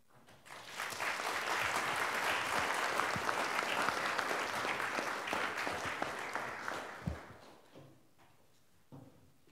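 Audience applause after a keynote address at a symposium, full clapping from a seated crowd that swells quickly, holds for several seconds, then tapers into scattered claps and shuffling.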